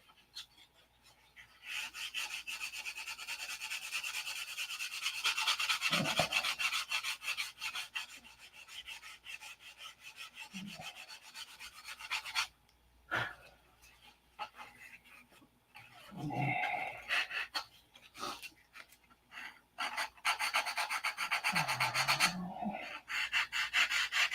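A 1/2A Cobra model is sanded by hand in long continuous rasping strokes, close and steady, with brief pauses between passes.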